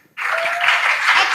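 A studio audience at a school science and technology quiz competition breaks into loud, steady applause for the contestants after a brief quiet start, sustained broadband clapping with a faint tonal hum underneath.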